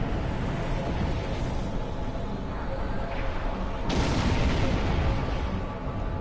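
Starship torpedoes launching from the sides of a ship in a Star Trek episode: a couple of short whooshing bursts, the strongest sharp and near, set against a steady low rumble of ambient engine noise.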